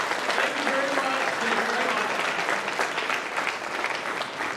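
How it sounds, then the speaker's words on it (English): An audience at an incubator pitch night gives a round of applause, a sustained, fairly loud wash of clapping that holds evenly for the whole stretch with faint voices underneath. "One more round of applause, please"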